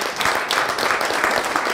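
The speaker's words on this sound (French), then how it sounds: "Je vous demande d'applaudir et d'accueillir Manuel Beaulier" Audience applause welcoming a startup founder onto stage at a smart city pitch event, a short dense burst of clapping without talk.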